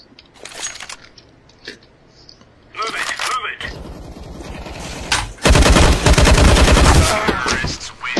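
Bursts of rapid video game gunfire, the last one long and loud, mixed with someone talking and short sharp cracks between.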